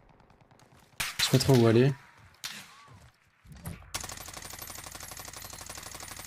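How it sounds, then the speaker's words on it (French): Gunfire rings out in a multiplayer shooter game as an enemy fires from a fortress position: a brief loud burst of shots followed by dense rapid firing, with a player talking over it. "Y'a un mec forteresse qui me tire dessus, quel dingue."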